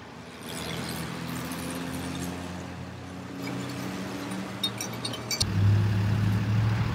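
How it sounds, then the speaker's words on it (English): A Tesla Model 3 being towed by a tow truck, with a steady low engine drone and faint metallic clinks, then a louder, deeper motor hum and rattling near the end. "So here we are again, getting the car towed again."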